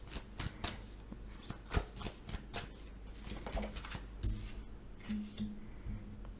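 Tarot cards shuffled by hand during a card reading, a quick run of crisp riffling flicks and soft slaps close up, fairly quiet, with a faint hum underneath.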